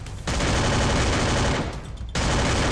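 Dense automatic gunfire in the Free Fire battle game, two long loud bursts separated by a brief gap, close and continuous with no voice over it.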